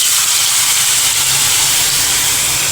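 Potatoes tipped into a hot mustard-seed tempering sizzle in a steady, loud, broadband hiss that continues without pause for a few seconds, alone with no talking.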